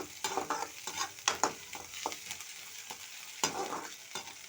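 Food frying in a pan is stirred with a utensil. Irregular scraping strokes and soft clinks rise over a faint sizzle, close and fairly quiet, with no talking.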